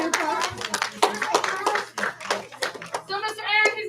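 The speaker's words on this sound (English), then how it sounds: "All right, give us a big round of applause." Scattered claps from a small group, likely children in a class, sound as separate sharp hits mixed with excited voices and chatter, close and uneven rather than a full ovation.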